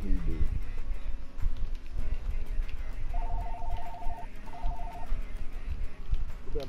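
A phone rings inside an NBA 2K16 basketball game, two short electronic trilling bursts heard beneath busy game noise and crowd sound.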